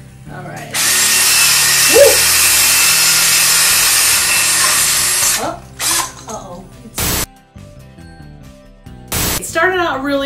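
A power drill fitted with a scrubber brush attachment whirs loudly and steadily for several seconds while scrubbing a surface, then stops and restarts in short bursts, with a person talking and exclaiming over it.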